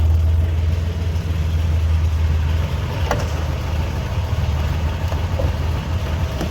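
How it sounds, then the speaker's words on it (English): A 1978 Reliant Scimitar GTE SE6 with a 3.0-litre six-cylinder Essex engine idles close by, a steady low rumble holding even throughout, with no talking. "An amazing sounding engine."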